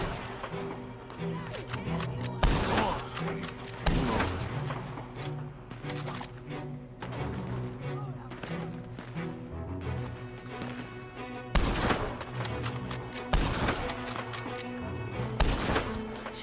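Gunfire in Red Dead Redemption 2: repeated sharp shots, some single and some in quick bursts, crack out at irregular intervals over a steady layered game ambience.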